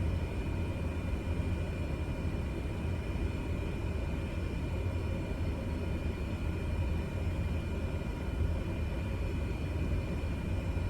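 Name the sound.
small airplane taxiing to the end of the runway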